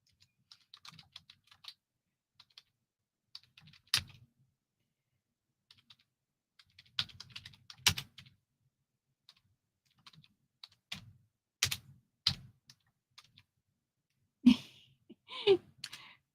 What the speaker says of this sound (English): So I'm going to type those in.